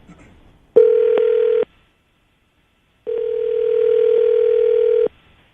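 Two long electronic telephone ringback tones, the first about a second and the second longer, each a steady buzzing pitch separated by silence, clear and alone while a call is dialed out.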